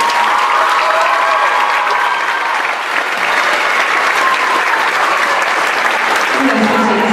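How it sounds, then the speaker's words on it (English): Loud, dense applause from an audience at an end-of-year school awards ceremony, a continuous wash of many hands clapping close by for the full stretch, with faint crowd voices mixed in near the end. "Let's give them one last round of applause."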